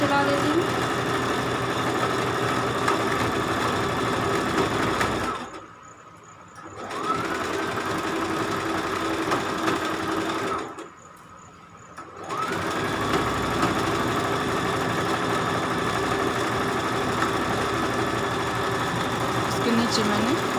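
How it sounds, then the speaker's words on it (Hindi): An electric sewing machine stitches around a pinned blouse piece in steady whirring runs, stopping twice for a second or two before starting up again, loud and close throughout. "ये देखिए इस तरह से मैंने इसमें मशीन चला दी।"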